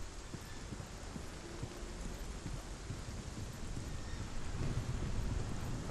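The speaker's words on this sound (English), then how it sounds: "I can hear the thunder and the rain in the headset." Heavy rain and rumbling thunder in the game Hellblade form a dense, steady wash of noise with a deep low rumble that swells slightly toward the end, with no talking.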